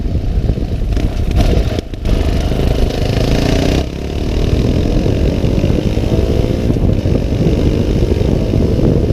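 A Fantic Caballero 500 motorcycle's single-cylinder engine, around 449cc, putters steadily on overrun, a loud, close, continuous rumble with a brief dip near the start and a short lull before the throbbing resumes.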